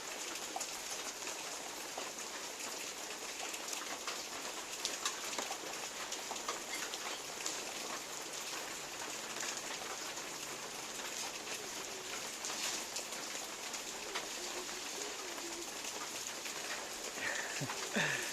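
Steady rain patters down in a constant hiss over an elephant mud spa, soft and even throughout, with no voices.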